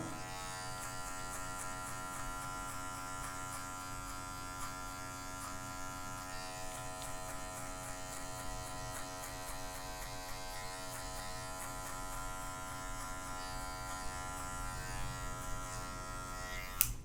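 Electric hair clippers buzz continuously at close range while cutting a fade haircut, a steady motor drone running the whole time with slight shifts as they move through hair.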